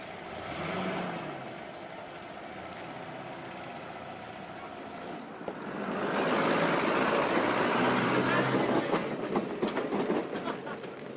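Car being driven out in a rural Ecuadorian setting, a broad rumbling engine and road noise that swells louder midway, with clattering and rattling on top.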